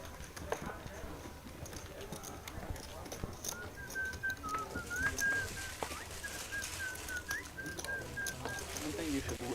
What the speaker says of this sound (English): Steven, stop whistling